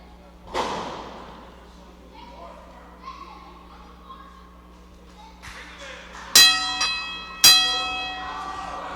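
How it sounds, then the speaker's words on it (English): A ring bell at a Southern States Wrestling event clangs to start the match, with two sharp bright strikes ringing out and decaying, after an earlier thud and some distant crowd and announcer sounds. "Bell's gone, match is underway here, fans."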